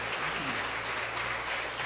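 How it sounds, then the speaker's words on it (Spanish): Congregation of women standing in a church service applauding, a steady wash of clapping held at an even level throughout with a faint low hum beneath. "Las hermanas se ponen de pie y dan un aplauso a estos hombres"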